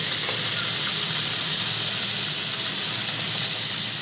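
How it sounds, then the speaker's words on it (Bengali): Fish pieces frying in oil in a pan, a continuous bright sizzle and hiss held steady and loud throughout, close up with no talk. "এক পিঠ ভালো করে ভাজা হয়ে গেছে, আমি আর এক পিঠ ভাজার জন্য উল্টে দিয়েছি।"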